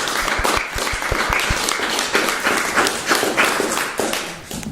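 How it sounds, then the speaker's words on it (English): Members at an end-of-year radio club meeting give a round of applause, loud close clapping from a small group with a few heavy thumps early on, continuing steadily before tapering off. "So those people deserve a round of applause for keeping us going."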